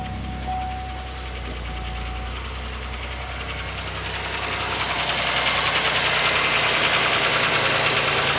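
A vehicle engine turning over and settling into a steady idle, a loud close rumble that swells after a few seconds with a knocking edge and no talk.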